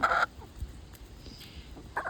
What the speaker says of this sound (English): So this is the chickens trying some corn on the cob for the very first time.